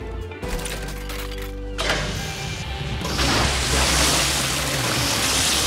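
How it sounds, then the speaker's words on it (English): Water at the Sea Monster Splash Park in the cartoon Rubble and Crew: a mechanical whirring and clunking start gives way to a loud, broad rush of splashing water that swells and keeps going. "Everybody can splash on in!"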